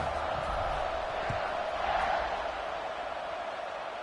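A football stadium crowd roars at kickoff, a dense, steady wash of cheering voices that stays loud throughout, close and continuous without pauses.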